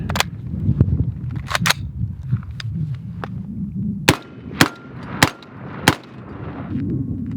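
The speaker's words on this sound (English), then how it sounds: "let's just get to putting some rounds down range" Gunfire from a CMMG MK47, an AR-15-style rifle that takes AK-47 magazines, at an outdoor range: sharp cracks, a few scattered early, then four evenly spaced loud shots near the end, close and alone.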